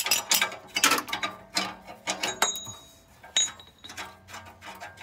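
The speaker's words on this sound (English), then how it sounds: "with the 1/2-inch ratchet on, it takes seconds to get that sensor off" A 1/2-inch ratchet turning an oxygen sensor socket to unscrew a vehicle's oxygen sensor, giving rapid bursts of loud metallic clicking in short uneven strokes, close and without talk.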